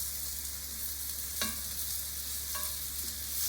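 Chicken pieces browning in a frying pan for a home-style chop suey, a steady broadband sizzle with a couple of sharp utensil clinks as the pieces are turned.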